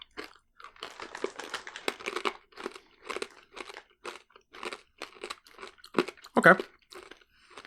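Crunchy, salty peanut-like snack nuts are chewed close to the mic in a run of loud, crackling bites and grinding crunches, with a brief spoken word partway through.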